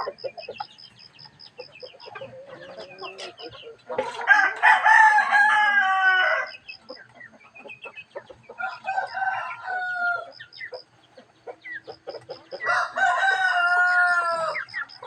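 Chickens in a pen, repeated loud rooster crows and clucks close by in bursts, with softer scattered clucking and chirps between them.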